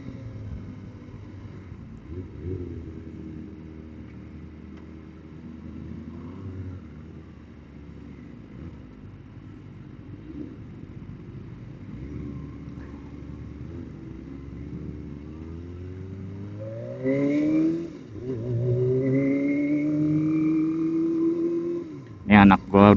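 A Kawasaki ZX motorcycle rides along a quiet Jakarta street, its engine droning steadily at high RPM before several rising revs and a sharp blip near the end, with someone talking over it.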